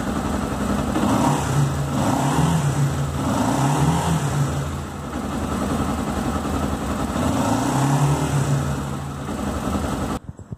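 A Honda XRE 300 motorcycle engine revs repeatedly up close, rising and falling in loud throaty surges over a steady idle rumble.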